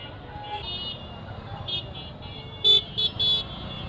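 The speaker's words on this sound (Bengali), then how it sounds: "এখনও পর্যন্ত রাস্তায় অনেক জ্যাম।" Car horns honking in a nighttime traffic jam on a crowded road in Jessore, Bangladesh, during the Pohela Boishakh festival: three short horn toots close together near the end over a steady rumble of traffic, with a few fainter beeps before.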